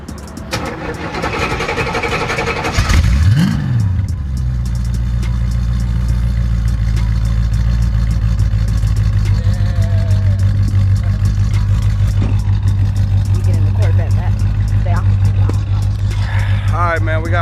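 A Jeep SRT8 engine cranks briefly and then catches, settling into a loud, steady, rumbling idle close to the mic while a person talks over it.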